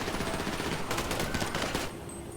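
Bursts of rapid automatic gunfire in the video game GTA V, dense crackling shots that stop abruptly near the end, no talk over them.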